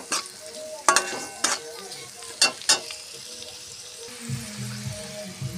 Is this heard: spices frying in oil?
yes